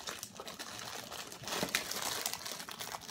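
Someone works open a package sealed with strong tape, making close crinkling, scraping and tearing noises in short irregular bursts, with a louder rip near the middle.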